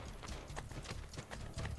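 Rapid hoofbeats of a galloping horse in the video game Assassin's Creed: Brotherhood, steady and fairly close, with a low rumble underneath and no voices.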